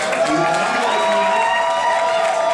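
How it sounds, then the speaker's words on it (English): Crowd at a ballroom event breaks into applause with loud cheering and whooping voices layered over the clapping, energetic and close, sustained for the whole moment. "Really quick, y'all give Will a round of applause."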